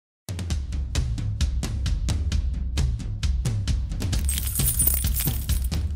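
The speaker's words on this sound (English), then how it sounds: "why we shake keys in the stands" Crowd of fans shaking keys in stadium stands at a university football game, a dense continuous metallic jangle of many clicks and chinks, loud and steady, with no talk over it.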